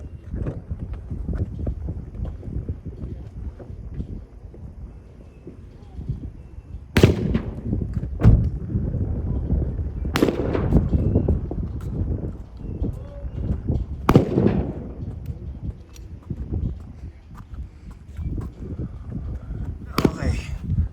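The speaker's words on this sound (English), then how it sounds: "shotgun, and I'm gonna use it for the first time." Shotgun blasts at a Las Vegas shooting range ring out as several loud, sharp reports spaced seconds apart over a busy background, with people talking throughout.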